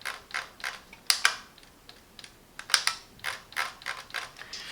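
Keychron M6 wireless mouse scroll wheel turning, a run of quick, light ratcheting clicks in short irregular bursts, close and crisp with no talking.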